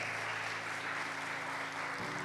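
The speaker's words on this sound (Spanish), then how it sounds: "¿Cuántos pueden darle un aplauso al Padre por su Hijo?" A church congregation claps during a Spanish-language sermon, a steady wash of many hands at moderate volume. A low sustained tone hums underneath.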